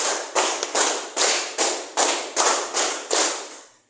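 A classroom group claps together in rapid bursts, about nine sharp collective claps in a fast, even rhythm, loud and close with no talk over them.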